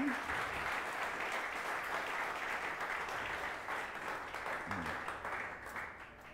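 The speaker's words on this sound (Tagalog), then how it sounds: "Yun pong palakpak para kay Jesus." A church congregation claps for Jesus during a Sunday sermon, a fairly faint, steady wash of applause that fades slightly toward the end, with a brief voice breaking through partway.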